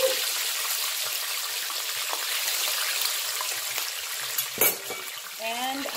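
Escovitch fish fries in hot oil, a loud continuous crackling sizzle close by, with a brief clatter of cookware and a short burst of sound near the end.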